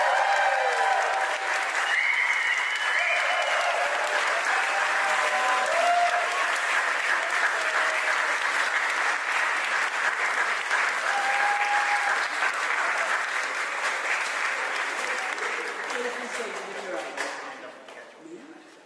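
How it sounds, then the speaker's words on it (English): Guests at a wedding ceremony break into sustained, close applause that holds steady for most of the stretch before tapering off near the end. "You can get excited and applaud if you like."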